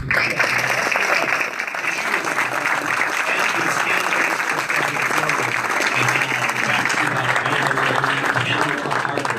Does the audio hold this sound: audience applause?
yes